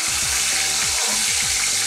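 Konjac dropped into a pot of hot oil for ajillo sizzles and crackles steadily at close range, a dense continuous frying hiss with no talking.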